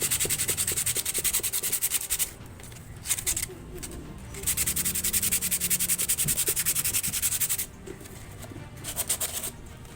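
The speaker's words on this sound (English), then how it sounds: "sanding will actually show how wrong I was" Close, steady scratchy sanding strokes rasp against a clay piggy bank in rhythmic bursts, broken by brief pauses.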